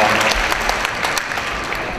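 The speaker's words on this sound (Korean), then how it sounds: "경북 안동에서 오신 우리 이재갑 시의원님 힘찬 박수로 환영해 주시기 바랍니다." A lively burst of applause from the audience at a Korean village-building talk show, greeting a visiting city councillor from Andong, dense clapping sustained throughout with no speech.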